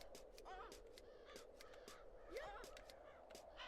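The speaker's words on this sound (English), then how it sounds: "Sound like one of the crows, man. Or a seagull trying to blend in with the crows." Crows caw repeatedly at a distance, several harsh calls spread over a few seconds, with one rising cry that could be a seagull among them, heard over a steady outdoor background.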